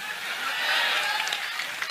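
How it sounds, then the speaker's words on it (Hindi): A large audience at a public speech claps together in a dense, steady wash of applause that swells slightly midway and stays fairly loud throughout, with no break. "तालियां बजाओ"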